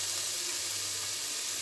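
Grated carrots with added red colouring sautéing in a pan for carrot halwa, giving a soft, even sizzle that stays constant and fairly quiet for a brief moment.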